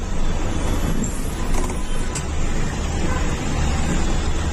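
A Swami Travels sleeper bus travelling by road from Thane to Gadhinglaj fills the cabin with a loud, continuous engine and road rumble, steady throughout with only slight swells and no voices.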